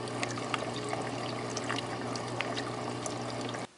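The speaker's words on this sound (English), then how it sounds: "the air stone did make my filter significantly louder since the bubbles eventually reached the top of the" An aquarium filter fitted with an air stone gives a steady watery trickle and bubbling, with a low hum underneath, running evenly at a moderate level before cutting off abruptly at the end.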